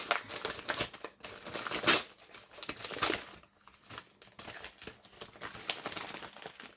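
A parcel is torn open and its packaging crinkled and ripped by hand, close up, in uneven bursts of crackling and rustling with no voices.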